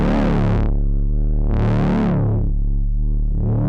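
Distortion on a 1981 Inventions DRV pedal processing a Roland TR-606 drum machine and a Moog Werkstatt synth: loud, gritty, saturated bass tones whose bright fuzzy edge opens and closes in two sweeping swells, heard alone.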